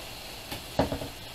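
Burgers sizzle in a hot pan as they are flipped, a quiet frying hiss broken by a brief clatter and a few soft crackles.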